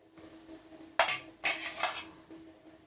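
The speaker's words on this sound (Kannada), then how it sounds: "ಕೇಕ್ ಕಟ್ ಮಾಡು. ತಗೋ ಸ್ಪೂನಲ್ಲೇ ತಗೋ." A spoon and cutlery clink against a plate while an anniversary cake is cut at a home celebration; a few sharp metallic taps and scrapes come close by in two short bursts, with no talk.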